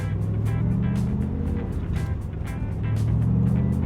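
A Chevrolet Corvette L36 convertible rolls away just off idle, its engine giving a steady, low rumble that swells slightly toward the end, with no talk over it.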